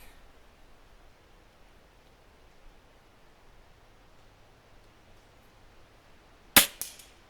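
A .22 pellet from a Weihrauch HW30s air rifle strikes a steel target about 27 yards away: a single sharp metallic clang late in the clip, followed by a brief ringing rebound, after a long stretch of quiet outdoor background.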